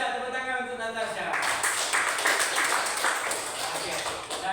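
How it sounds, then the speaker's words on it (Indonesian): Classmates clap for a student named Natasha in a classroom, a dense patter of hand claps starting after a second and continuing steadily to the end, fairly close and moderately loud. "tepuk tangan untuk Natasha"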